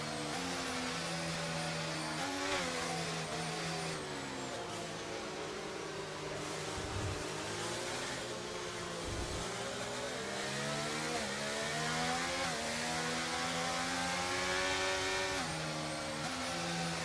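Formula One race cars in a league race video game whine loudly and continuously, engine pitch rising and falling through gear changes across several overlapping cars, with no talking.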